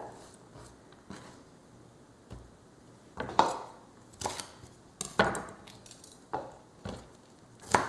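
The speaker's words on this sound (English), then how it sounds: "So that gets roughly chopped too." A knife roughly chopping chili peppers on a cutting board, irregular sharp knocks spaced about a second apart, close and fairly quiet.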